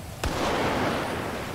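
A single sharp gunshot cracks out in GTA 5 during a police mod patrol in Rutherford Fields, followed by a broad rushing noise that fills the rest of the moment.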